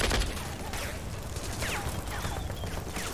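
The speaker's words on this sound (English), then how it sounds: "the tanks would start using the machine gun and taking that tree line under fire" Continuous dense rattle of tank machine gun fire raking a tree line, a thick wash of rapid shots and battle noise at steady volume with no pauses, no voices.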